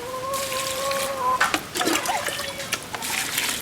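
Water is poured and trickles over chopped leaves being soaked for fermenting, coming in short uneven splashing bursts close by, with a faint tonal hum running underneath.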